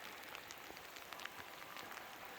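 Heavy rain falling on a bushwhacking hike in the mountains, a faint, dense, even patter of drops with no break, heard alone without speech.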